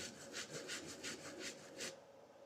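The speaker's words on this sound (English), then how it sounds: "I think you guys can probably hear the lemon zest right now." Rhythmic rasping strokes of a lemon being zested on a hand microplane, about eight quick scrapes close by, then stopping.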